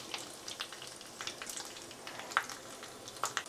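Panch phoron, asafoetida and dried red chilies frying in oil in a pan, a soft crackling sizzle with scattered sharp pops and spits, quiet and close with no talking.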